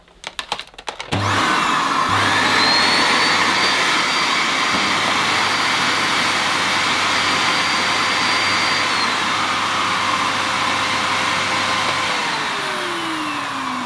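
A Miele Art vacuum cleaner switches on after a few clicks and quickly ramps to a loud, steady high-pitched whine and rushing roar, its tone shifting slightly midway and continuing close and unbroken to the end.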